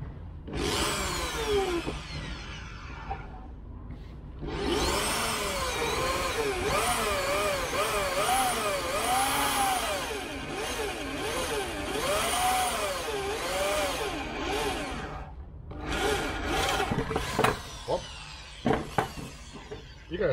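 A spot weld drill bores into the steel body of a 1971 Range Rover, a loud continuous whine with wavering pitch that runs for about ten seconds between shorter bursts, then stops, followed by a few sharp knocks.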